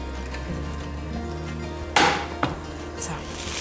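Breaded aubergine schnitzel frying in a pan, a steady soft sizzle with a few sharp clinks and scrapes from handling in the pan, close and moderately loud.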